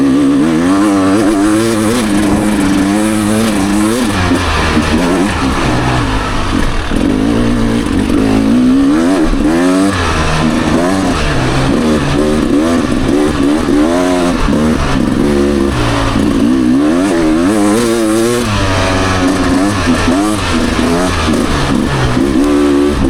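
A 2023 Beta Xtrainer dirt bike ridden around a lap, engine loud and close throughout, revving up and down in constant rising and falling pitch sweeps as the rider works the throttle.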